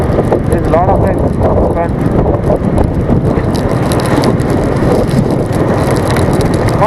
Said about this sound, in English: My God, it's becoming very heavy rain.